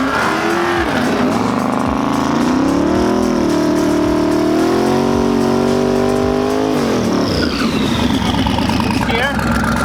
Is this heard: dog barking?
no